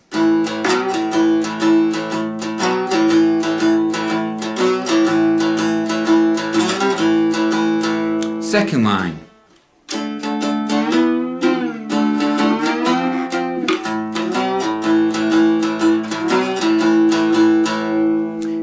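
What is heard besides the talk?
two-string cigar box guitar playing twelve bar blues lines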